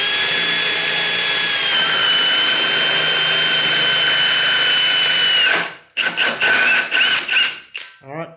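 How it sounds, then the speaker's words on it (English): A power drill fitted with a hole saw cuts partway into a workpiece, a loud steady whine holding for about five seconds before stopping, followed by a few short bursts of drilling. "I'll drill through halfway with the hole saw."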